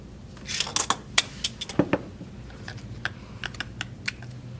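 Tape pulled from a roll and pressed onto a book cover, close and fairly quiet, a few sharp ripping pulls followed by light taps and crinkles over faint background noise.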